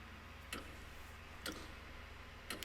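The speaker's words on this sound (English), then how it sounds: "Ticking?" Three sharp ticks spaced about a second apart in Xenoblade Chronicles 3, faint and isolated over a quiet ambient game background with no talk.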